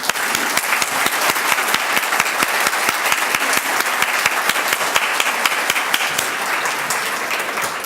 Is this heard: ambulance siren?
no